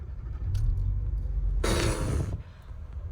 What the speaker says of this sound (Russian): давай прям здесь на светофоре попробуем заглушить и завести